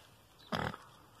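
A pig gives a single short, loud grunt outdoors, standing out against a quiet background, with no one speaking over it.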